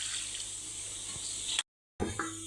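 Water poured from a tap into bhatura dough in a home kitchen, a steady hissing trickle for over a second and a half before a brief cut-off, then resuming, with no talk over it.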